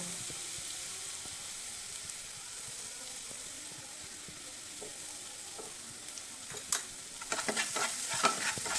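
Coriander leaves frying in oil in a pan hiss with a steady close sizzle, and stirring scrapes and clinks grow louder and quicker toward the end, with no voices.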